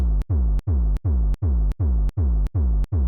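Eight evenly spaced distorted kick drum hits, each with a gritty, sustained low tail that fades before the next strike; loud and alone.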